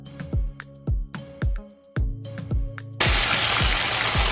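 Onions tipped into hot frying oil in a kitchen while making gravy for fried fish, with several hollow knocks before a sudden loud, steady sizzle takes over.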